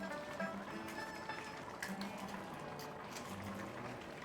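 A lidded pot of stew with sliced firm tofu simmers over medium heat, giving a faint, steady bubbling hiss with no talking.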